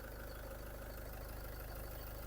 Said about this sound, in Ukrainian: Двигун працює рівненько, нема ніяких посторонніх звуків